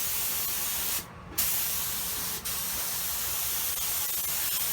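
A spray gun lays primer over a car hood in a loud, steady hiss, cutting off once for about a second and stuttering briefly again before carrying on.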